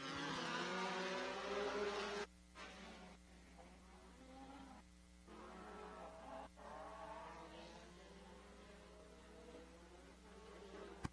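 Off-road Pro Buggy race cars launching at the start of a race at Wildhorse Pass, Arizona, a loud continuous engine drone with brief dips and surges as the pack pulls away.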